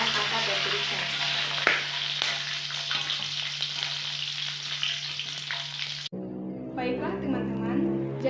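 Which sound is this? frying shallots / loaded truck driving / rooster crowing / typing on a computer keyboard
frying shallots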